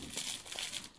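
A small plastic packet from a counterfeit LOL Baby doll and pet set is pulled open during unboxing, giving close, quiet crinkling and rustling for about a second without speech.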